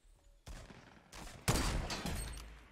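Shotgun blasts in a Fortnite battle royale match: a sharp report around half a second in, another near one second, then a heavier close burst at a second and a half with ringing, crackling tail.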